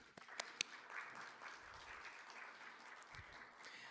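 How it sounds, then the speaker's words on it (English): A university showcase audience applauds, a fairly faint, distant wash of clapping with a few sharp nearer claps at the start, sustained evenly to the end. "So again, a round of applause for yourselves."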